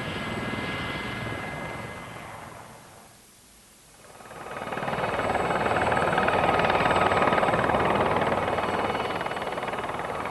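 A trainee army helicopter in flight sends out a loud, steady rotor and engine roar that fades briefly and then swells back to full strength, heard close with no talking.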